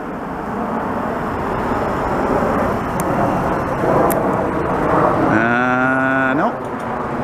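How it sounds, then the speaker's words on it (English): A Boeing 737-200 airliner flies overhead above a Montreal street on a chilly day. A broad, steady jet rumble fills the whole stretch, and a nearby vehicle's tonal whine briefly rises near the end. "That sounds like a Boeing 737-200."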